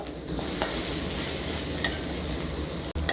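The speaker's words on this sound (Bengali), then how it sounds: "এরপর আমি বাকি বড়াগুলো ভেজে নিচ্ছি" Red lentil (masoor dal) fritters fry in hot oil, giving a steady, close, crackling sizzle that runs the whole time, broken by a faint scrape of stirring near the end.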